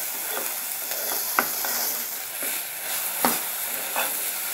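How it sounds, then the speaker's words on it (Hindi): Mint pickle masala is being roasted and stirred in a pan, giving a soft steady sizzle with a few scraping knocks from the spoon and no one speaking. "थोड़ा सा भून लेंगे और फिर गैस को बंद कर लेंगे।"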